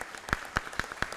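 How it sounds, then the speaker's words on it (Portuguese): A few isolated, spaced hand claps from an audience at a public hearing of the Archdiocese of Montes Claros, quiet and sparse with about four distinct claps. "Mais uma salva de palmas,"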